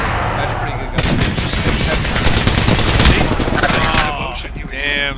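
Spitfire light machine gun in the shooter game Apex Legends, a loud rapid burst of automatic fire lasting several seconds, with further shots at the end as a voice talks over it.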